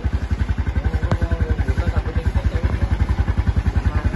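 A modified 2010 motorcycle used as a palm-plantation taxi idles steadily nearby, its engine giving an even, rapid chugging pulse with light mechanical clatter throughout.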